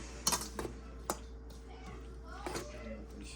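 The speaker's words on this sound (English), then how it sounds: "Stir everything up." Seasoned food stirred in a pot, a few scattered metallic clinks and scrapes of utensil against cookware, fairly quiet, with people talking in the background.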